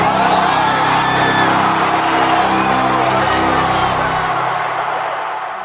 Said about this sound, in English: You can hear a roar from the crowd